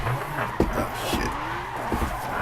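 Car drifting in Gran Turismo 5, engine droning with tire squeal rising and falling and a few sharp thumps, heard steadily at moderate volume.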